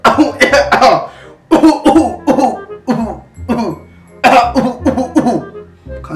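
A man coughs repeatedly in loud, close, harsh bursts, several in quick clusters separated by short pauses, with some throat clearing mixed in.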